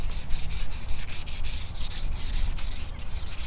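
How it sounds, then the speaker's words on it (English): 600-grit sandpaper rubs lightly back and forth over a surface in quick, even strokes, a soft, steady rasping close up with no voices. "Just very lightly sanding."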